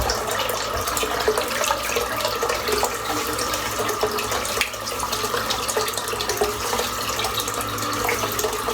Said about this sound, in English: I'm just going to add a touch of water to my head.